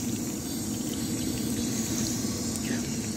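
Water runs steadily from a drinking fountain in a Budapest metro station, a constant close hiss and gush over low hum.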